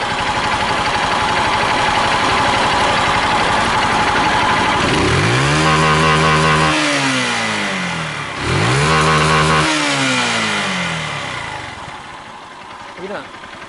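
Fuel-injected Honda Titan 150 motorcycle with a suspected fuel pressure fault, idling rough in a workshop, then revved twice in rising and falling sweeps before dropping back to idle, close and loud, with people talking over it.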